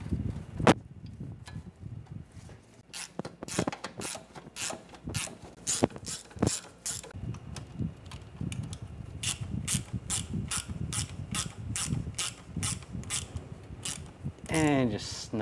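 A hand ratchet snugs down the water pump bolts on a 2009-2013 BMW 328i xDrive with a 3.0L inline-six, clicking in rapid, close bursts with short pauses between strokes.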